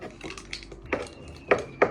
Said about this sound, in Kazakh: Мама турап атыр